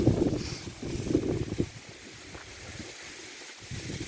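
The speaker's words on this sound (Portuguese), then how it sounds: "Tá ventando bastante" Wind gusts buffet the microphone in rough, rumbling bursts that swell and ease over a few seconds.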